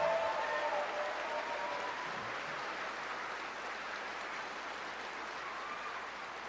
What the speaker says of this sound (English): Let's give them some applause.